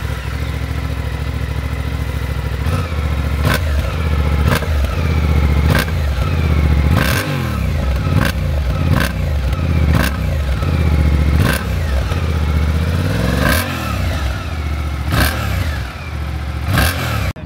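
A Suzuki V-Strom 800 DE adventure motorcycle with a very quiet exhaust runs steadily up close. It revs gently, with regular sharp clicks and clatters punctuating the engine note throughout.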